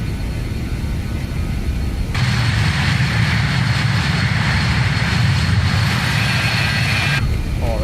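Regional jet engines in a flight simulator spool up to takeoff power, a loud, steady roar that swells suddenly and holds, then drops back, with a high whine over the deep rumble.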